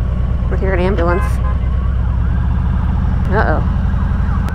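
An ambulance siren wails briefly in rising, warbling bursts in street traffic, heard over the loud, steady rumble of a 2021 Harley-Davidson Road King engine from the rider's position.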